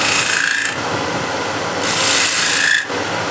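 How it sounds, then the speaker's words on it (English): A small spindle gouge cuts into a spinning wooden hexagon plate on a lathe, giving a loud, steady rasping scrape in two long bursts separated by a quieter pause, with no talking. "So small spindle gouge."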